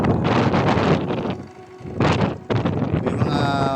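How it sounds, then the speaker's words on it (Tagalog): Strong wind at Magtangkog River buffets the microphone in heavy roaring gusts, easing briefly before surging again, with no clear talk over it. "maganda at napakalakas ng hangin dito"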